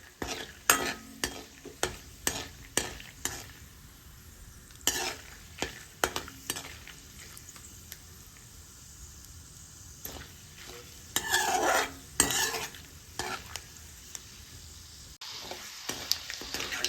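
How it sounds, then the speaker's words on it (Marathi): Peanuts frying in hot oil for kanda poha, a steady low sizzle broken by repeated clinks and scrapes of a stirring spoon against the pan, close by with no talk. "आणि छान आपल्याला शेंगदाणे खरपूस तळून घ्यायचे"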